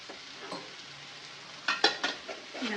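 Mango pieces sauté in a pan as sugar is added and stirred in, with a soft steady sizzle broken by a few scraping stirs near the end.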